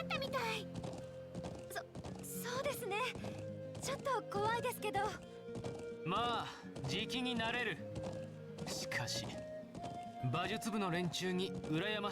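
Horse hooves clip-clop in the video game Trails of Cold Steel, a steady trotting patter mixed under game music and voices throughout.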